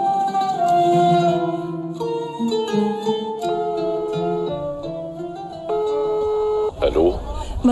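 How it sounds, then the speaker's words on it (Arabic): Mobile phone being dialed, a sequence of clear tonal beeps stepping between pitches, one after another over several seconds before a louder rustling noise at the end. "هاتي أعطيني الموبايل لدق لأبوك"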